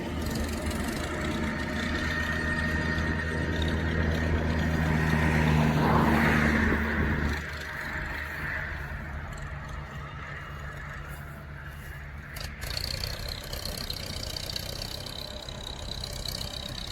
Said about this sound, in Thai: รถไถก็ใช้ผานนะครับในการเคลียร์